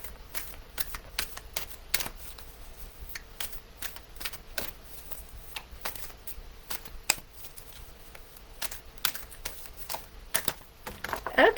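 Oracle cards shuffled by hand in a steady series of crisp riffling snaps and flutters, close and fairly quiet, with no talking over them.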